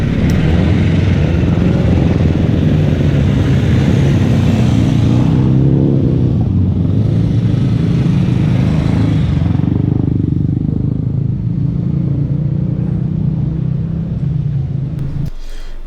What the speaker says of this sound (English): You can see and hear you get multi-cylinder jack bikes in the same class as old British singles